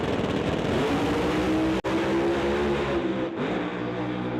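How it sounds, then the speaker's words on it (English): Drag race cars launch side by side from a pre-staged start at a drag strip, a loud sustained engine roar filling the clip with a brief sharp cutout midway and rising revs near the end, no talk. "both cars pre-staged and ready to go now."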